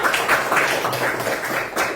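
Schoolchildren in a classroom clap together for a classmate, a dense, steady patter of many small hands close by, with no clear speech over it.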